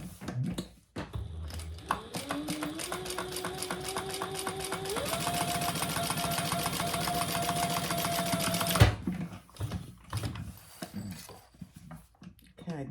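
A domestic sewing machine stitches the top of a fabric hip bag closed, its motor whirring up in pitch as it runs steadily for several seconds before stopping. A person talks before and after.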